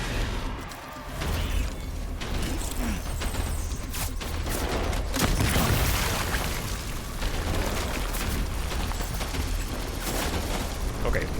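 Gunfire in the video game Death Stranding, a dense rapid burst of shots and booms packed over a loud, continuous game soundscape.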